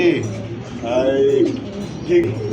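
Pigeons cooing at a pigeon sale that includes silkie pigeons. Soft, repeated low coos and a few chirps come from nearby birds, partly under steady conversation.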